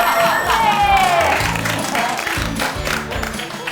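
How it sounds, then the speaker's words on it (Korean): A studio audience claps, a burst of scattered applause that rises and then thins out. Voices chatter over the clapping throughout. "박수"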